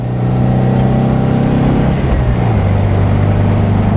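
A 1958 Porsche 356 A 1600 Super Speedster accelerating hard from the driver's seat, the engine note rising loudly, a brief shift around the middle, then pulling strongly again.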